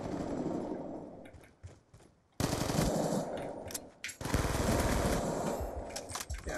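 Gunfire in a Black Ops 2 gun game match, loud bursts of rapid shots in two long stretches with a brief quieter gap and scattered single cracks between.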